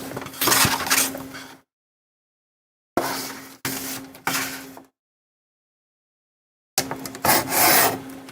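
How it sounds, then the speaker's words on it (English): A paper guillotine slices through sheets of paper, giving a few close, rasping scrapes with silent gaps between the cuts. "So I've got my guillotine under here."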